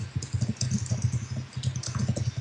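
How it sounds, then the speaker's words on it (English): Steady, rapid clatter of keys on a computer keyboard, dense and continuous with brief pauses, heard close and fairly loud, with a faint background hum and no clear speech. "I can hear you typing pretty good"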